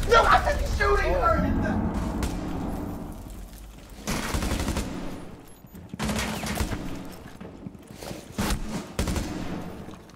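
Gunfire bursts from a Rainbow Six match on PC, heard loudly at the start and then again in several sharp clusters, mixed in with players talking.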